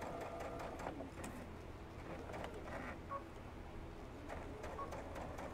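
A sewing machine stitching a plush stuffed horse, a steady fast mechanical whir and rapid needle clatter running throughout at low level, with no talk.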